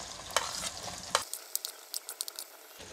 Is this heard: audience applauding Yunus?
no